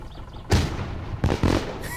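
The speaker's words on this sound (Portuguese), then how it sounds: "vamos soltar um fogos aqui, fi, ó. Só pra comemorar" Fireworks launched in the driving and survival game My Summer Car go off in three loud, broadband bursts, one sharp blast followed by two close together, over low background rumble.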